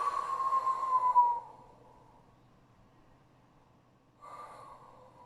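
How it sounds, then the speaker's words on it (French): A breath drawn in sharply through the nose during a Pilates class, a close hissing inhale lasting over a second, then quiet, and a second softer breath near the end. "Inspirez."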